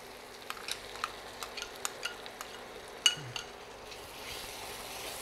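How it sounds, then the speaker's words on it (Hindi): Yogurt spice mix is stirred quickly into cooking tomatoes, a quiet pan with a series of sharp spoon taps and scrapes at an uneven rhythm over a soft, faint sizzle. "दही रो मसालो डालते अपन जल्दी जल्दी चलावना जरूरी है"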